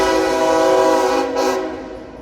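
Close, loud horn blast from a northbound CSX freight train, a rich sustained chord that holds for about two seconds and tapers at the end over the rumble of the train.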